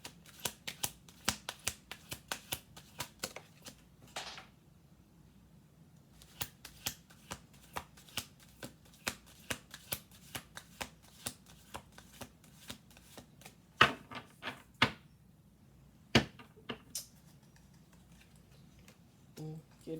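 Playing cards being shuffled on a table, a series of sharp close riffling clicks and snaps in irregular bursts with quiet pauses between them.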